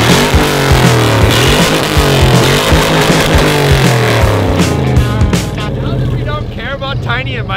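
A Ford Ranger pickup's engine revs hard and strains during a tug of war against other Rangers, a loud close roar with wavering pitch that eases toward the end, with voices under it.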